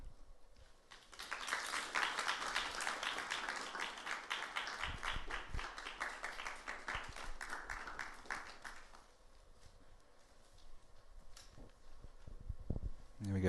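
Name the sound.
audience applause for conference speakers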